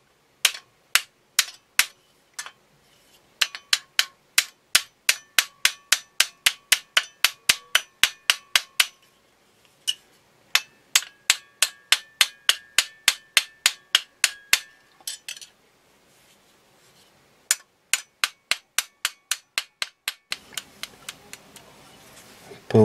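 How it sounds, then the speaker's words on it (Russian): Hammer riveting a skewer made from an old sword, held in a chuck: long runs of sharp, ringing metallic taps in fast steady rhythm, close and clear, with short pauses between bursts and a shuffling noise near the end. "Зажал вот в такой патрончик и теперь буду клепать, что называется, на коленке."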